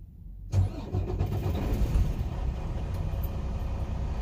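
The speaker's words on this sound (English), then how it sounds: "I'm going to start the engine." Truck engine cranks and fires up after a brief silence, then settles into a loud, close, rumbling idle that carries on steadily.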